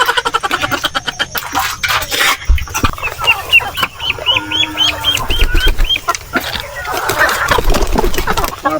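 Hens on a farm cluck repeatedly at close range, with rhythmic clucking calls, a drawn-out squawking cackle in the middle and some wing flapping and rustling around them.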